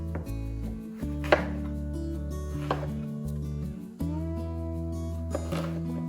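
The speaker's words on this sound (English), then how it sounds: "I'm just literally gonna cut it in wedges" Knife cutting a patty pan squash into wedges on a board, with three distinct sharp chops spaced about every second and a half over a steady background hum.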